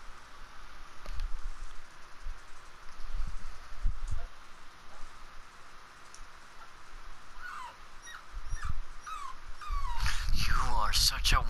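A dog whimpering and whining in the Prey video game, several high, thin cries that grow more frequent toward the end, mixed with game sounds and someone talking.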